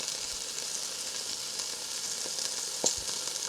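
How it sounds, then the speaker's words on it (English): Small cubes of beef, a little over a pound, browning in a hot pan with a steady, even sizzling hiss and a faint tap near the end, close and alone. "our beef is browned up nicely. We're getting some nice dark brown crust on it"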